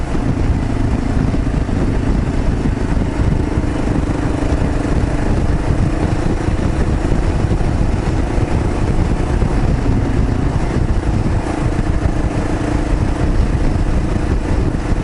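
A Kawasaki KLR 650 motorcycle engine drones steadily while riding, loud and continuous with wind rush layered over it for the whole stretch and no speech.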